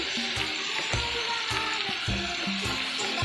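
Soaked soybeans with turmeric, salt and cumin powder fry steadily in a pan, a dense continuous sizzle with a faint clinking rhythm from stirring, near and even, without any voices.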